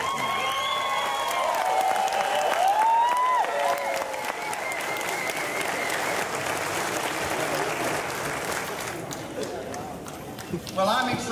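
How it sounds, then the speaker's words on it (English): A graduation audience in Houston stands and applauds the graduates, broad sustained clapping from a large crowd with a few whistles early on and scattered voices. "How about you stand up and give them a round of applause for this accomplishment?"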